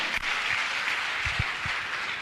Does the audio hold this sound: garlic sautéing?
no